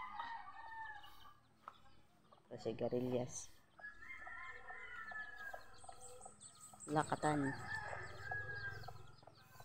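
Chickens in a home garden, a rooster crowing twice with clucking around it, moderately close, while a person speaks quietly in between.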